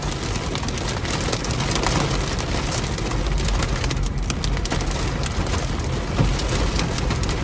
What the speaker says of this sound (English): Currently getting a lot of pea-sized hail